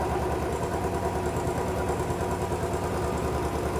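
A Royal Enfield Bullet 500 EFI motorcycle engine runs continuously nearby, a low throbbing rumble whose pitch wavers slightly as the revs rise and fall, with no voices.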